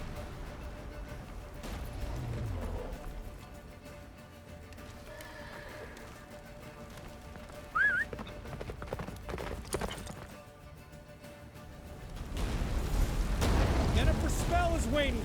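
Geralt's horse Roach gallops through a blizzard in The Witcher 3, hoofbeats drumming under a roar of wind, booming effects and music, with brief spoken lines in between.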